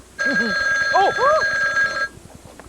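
A telephone bell rings loudly and steadily for about two seconds, close by, while a voice exclaims over it and then the ring stops.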